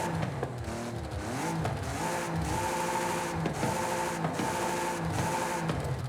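Revs from an Audi Quattro engine in Forza Horizon 5 rise and fall in repeated bursts, a raspy, buzzing snarl climbing in pitch then dropping back, close and continuous without voices.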